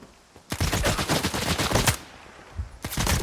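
Rapid bursts of automatic gunfire in S.T.A.L.K.E.R. 2, two volleys separated by a short pause, loud and close.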